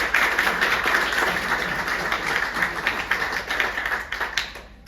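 Audience applause after a speech at a business breakfast briefing, a dense, steady clatter of many hands clapping that holds at full strength and begins to thin out toward the end.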